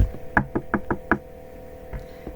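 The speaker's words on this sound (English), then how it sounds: "Just then there was a knock at the door." Five quick raps on a door in an even rhythm, close and distinct, then a faint sixth knock after a pause, over a low steady hum.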